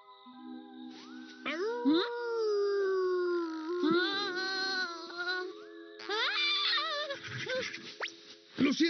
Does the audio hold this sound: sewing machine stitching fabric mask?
no